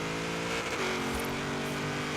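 A 1972 Ford Falcon XA GT-HO in Forza Horizon 3 on a drag pass, its engine droning loudly and steadily throughout with a rising, revving tone.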